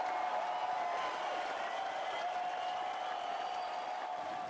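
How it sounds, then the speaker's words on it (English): A crowd applauds and cheers as dam gates lift and water begins to flow at the St. Francis Dam. A steady, dense wash of clapping and distant cheering carries on without pause, fairly faint. "once again the crowd goes wild"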